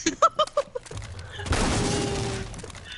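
Fortnite gunfire: a quick run of sharp shots at the start followed by a loud, drawn-out crashing burst that fades, with players talking faintly around it.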